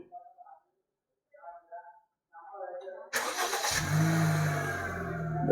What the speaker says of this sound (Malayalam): വണ്ടി സ്റ്റാർട്ടായിട്ടുണ്ട്